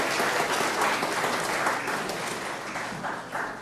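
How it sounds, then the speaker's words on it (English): A seated audience applauds a pop-up choir at a morning gathering. Dense, steady clapping from many hands fills the room and fades slightly toward the end. "Another round of applause for the pop-up choir."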